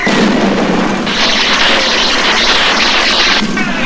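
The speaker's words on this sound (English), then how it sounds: "that was an explosion" A continuous loud roaring rumble of an explosion and its aftermath in the horror video game The Casting of Frank Stone, a dense, sustained noisy blast filling the scene without speech.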